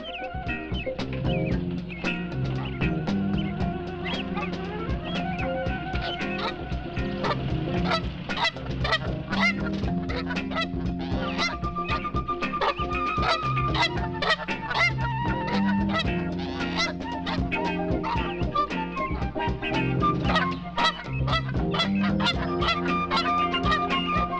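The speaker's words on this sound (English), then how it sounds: "It was the expanding Toronto Island flock of geese that supplied the first stock for the sanctuary" A Toronto Island flock of Canada geese honks continuously, many loud overlapping calls close by in a dense, unbroken chorus with no voices.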